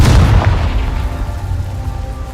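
A Confringo fire spell detonates in Hogwarts Legacy, a single loud, deep boom that hits at once and then rumbles away over about two seconds, heard alone without speech.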